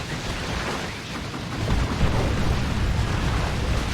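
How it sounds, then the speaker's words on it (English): Frag missiles fired against infantry in Dawn of War 2 explode as a dense, continuous rumble of blasts, heavy and sustained throughout, with no talk over it. "Using those frag missiles against infantry."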